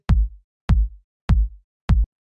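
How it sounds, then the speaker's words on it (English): A punchy electronic kick drum sample hits four times in an even pulse, each a deep, tight thump with a short decaying tail, heard alone and dry with silence between hits. "It's pretty simple. It's just a nice punchy kick."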